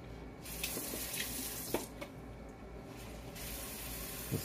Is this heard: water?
yes